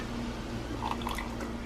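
Heavy whipping cream poured into a pan for chicken and shrimp Alfredo makes soft, liquid drips and splashes over a steady low kitchen hum, close by and fairly quiet.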